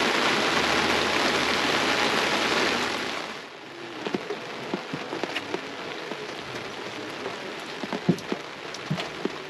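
Heavy rain hisses down on a Florida lake, a dense steady wash that suddenly drops off, leaving scattered close patters and drips on a boat canopy.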